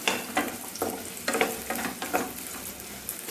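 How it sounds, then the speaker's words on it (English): Sweet potatoes roast in ghee over a medium flame, giving a soft continuous sizzle broken by repeated scraping stirs at an irregular rhythm, close and fairly quiet. "So I'll roast all the sweet potatoes. We need to roast it on medium flame."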